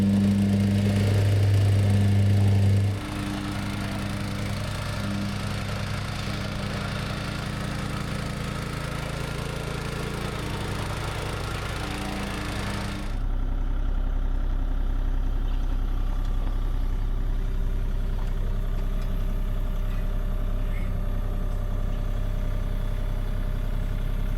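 A small Honda gasoline engine idles steadily and loudly on a concrete job site, its running note shifting partway through before settling into a continuous drone.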